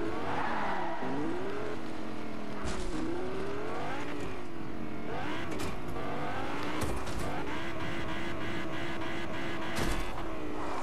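A car drives in the video game Fortnite, its engine revving and shifting pitch continuously with tire squeals and bumps, loud and close throughout the clip.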